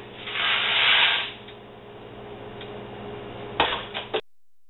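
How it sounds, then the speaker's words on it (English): A pot of water at a hot boil for Kraft Dinner hisses steadily, swelling louder in the first second, with a few sharp ticks and clicks just before the sound cuts off. "Now that we've brought it to a nice hot boil, it's time to dump in that Kraft dinner"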